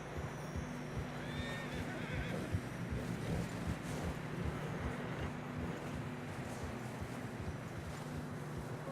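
Horses in Red Dead Redemption 2 trudging through deep fresh snow on a narrow mountain path, with a faint whinny and soft steady hoof plodding under a constant low wind-like rumble.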